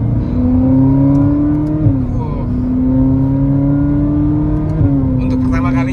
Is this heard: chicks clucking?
no